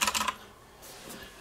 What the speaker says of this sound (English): This G-Skill keyboard is awesome. These mechanical switches.